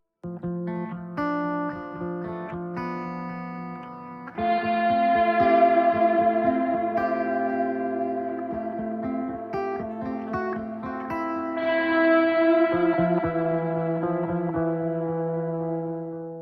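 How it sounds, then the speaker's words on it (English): Distorted electric guitars play sustained chords with echo and reverb, the tone panning left to right and back across the stereo field as the music continues without talk. "I'm telling Cubase to move that guitar between left and right and then back from right to left"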